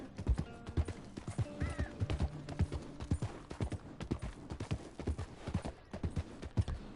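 Horse hooves in Red Dead Redemption 2 clip-clop in a steady riding rhythm, close and distinct, with a brief whinny-like sound partway through and soft background game ambience.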